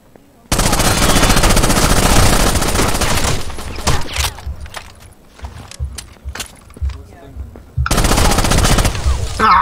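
Automatic weapon fire from an MP5 in Rainbow Six Vegas 2 rattles out in loud, dense sustained bursts, breaking into scattered shots and clatter midway before another long burst closes it.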